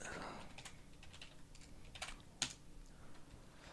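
Fingers tap a computer keyboard to enter a MySQL password, giving faint, scattered keystrokes with one sharper click, quiet and close.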